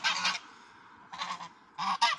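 A goose honks in three loud, close bursts separated by short quiet gaps, with no voices.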